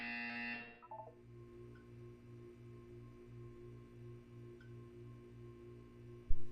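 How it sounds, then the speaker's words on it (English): In the video game Portal 2, a short bright buzzer tone sounds at the start, followed by a quiet, evenly pulsing low electronic hum that repeats steadily. "You will hear a buzzer."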